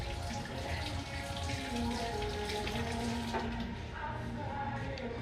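Tap water runs steadily into a sink as items are washed, a continuous splashing flow with faint clatter, moderately close and without speech.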